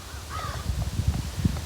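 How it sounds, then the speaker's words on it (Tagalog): Crows caw repeatedly outdoors along an uphill walking route past houses, several hoarse calls overlapping over a steady low rumble of wind and footsteps. "Yung mga uwak."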